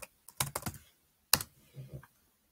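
Typing on a Chromebook keyboard: a few quick bursts of close, crisp key clicks with short pauses between them, and no voices.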